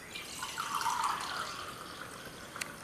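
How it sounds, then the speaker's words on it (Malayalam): Water from rice soaked overnight being drained off for pazhamkanji, a soft steady trickle and drip with a brief louder splash near the end, fairly faint and with no talk. "തലേ ദിവസം വെള്ളം ഒഴിച്ച് വെച്ചേക്കണ ചോറാണ്. ഇതിന്ന് കുറച്ച് വെള്ളം മാറ്റുന്നുണ്ട്."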